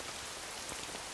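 Steady rain falls in an anime episode, a dense, even hiss of drops on surfaces with no voices, continuous and moderately loud for the whole moment.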